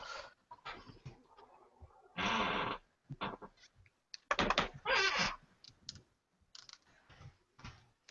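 Computer keyboard typing in irregular bursts of clicks and clatter, fairly close and moderately loud, with no speech.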